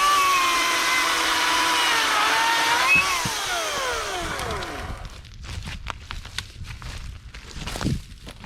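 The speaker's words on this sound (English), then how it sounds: "Loving this new AEG chainsaw." An AEG chainsaw runs loudly at close range, its pitch sliding down as the motor winds off, followed by scuffing and rustling handling noise outdoors.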